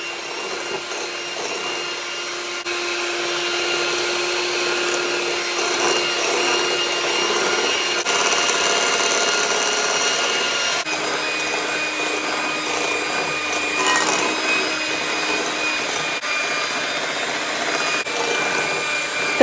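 An electric mixer blends flour into cake batter for a peach upside-down cake, a steady whirring motor drone with scraping, rubbing texture running continuously up close, with no talking.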